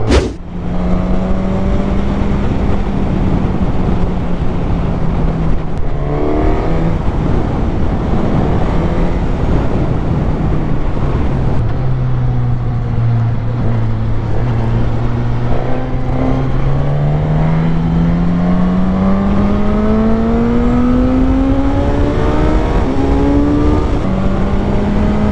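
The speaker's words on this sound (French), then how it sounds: "j'adore prendre des courbes avec cette moto" A 2021 Suzuki GSX-S1000 motorcycle in its full 152-horsepower version, ridden through bends with a quickshifter: engine drones and rises and falls steadily, with a clear shift blip and long revving climbs under strong wind rush.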